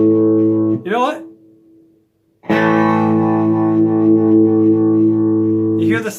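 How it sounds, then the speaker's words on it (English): An Ammoon Telecaster-style electric guitar with a staticky tone pot rings through a heavily distorted amp, sustained chords broken by crackling bursts and a short near-silent gap. "So the tone pot is staticky in both guitars."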